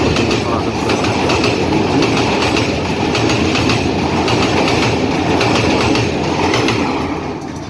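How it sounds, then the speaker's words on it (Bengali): The Rajshahi Mail, a Bangladeshi local train pulled by a 65-19 series locomotive and running from Chapainawabganj toward Ishwardi, roars past close by in a loud, continuous rumble with rhythmic clattering of wheels on rails, fading slightly at the end. "65-19 সিরিজের লোকোমোটিভ নিয়ে চাঁপাইনবাবগঞ্জ থেকে ছেড়ে আসা ঈশ্বরদীগামী রাজশাহী মেল এই মুহূর্তে ছুটে যাচ্ছে ঈশ্বরদী অভিমুখে"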